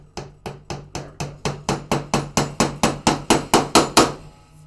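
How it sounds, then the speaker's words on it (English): Hammer blows during repair of a 1966 Gottlieb Mayfair pinball machine: about fourteen sharp, evenly spaced strikes in a steady rhythm, close and loud, with no talking. "Exciting hammer action."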